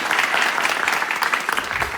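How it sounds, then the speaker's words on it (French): Dense applause from a live crowd, steady and full throughout the short burst with no pauses or other sounds. "Applaudissements encore une fois."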